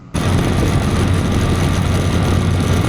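A motorcycle cruising on an open road during a weekend ride, its engine a steady, loud, continuous drone mixed with wind rush and no pauses or voices.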